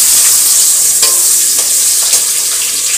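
Fenugreek seeds fry in hot oil in a pan for a Manipuri-style fish curry: a loud, continuous sizzle with a few faint clicks of stirring throughout.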